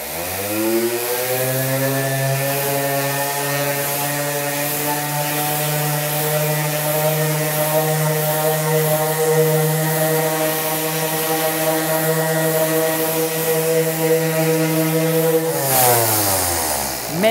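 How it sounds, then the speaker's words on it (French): A loud, steady electric sander drone with a buzzing tone runs continuously at close range as it sands a surface, then winds down just before the end. "Je vais prendre la ponceuse, maintenant que la surface est bien nettoyée."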